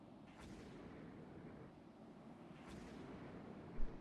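A missile hits a destroyer in the naval strategy game Rule the Waves 3. Two faint, distant booms ring out several seconds apart over a quiet, rumbling background.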